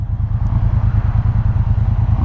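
A 2018 Triumph Bonneville Speedmaster motorcycle idles at a stop, its exhaust giving a steady, close, low rhythmic throb.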